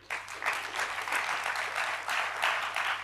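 A roomful of people at a G20 India forum breaks into steady applause, a dense continuous wash of many hands clapping at moderate distance for about three seconds, with no speech over it.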